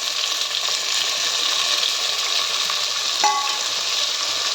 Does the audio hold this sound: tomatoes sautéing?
yes